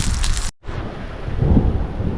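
Thunder from a passing thunderstorm rumbles low and heavy through a mountain campsite in Colorado, a dense rolling boom broken by a brief cut, then resuming as a deep, near rumble.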